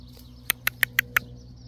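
Five sharp, evenly spaced chirps ring out one after another in a quick series outdoors, over a low steady background hum.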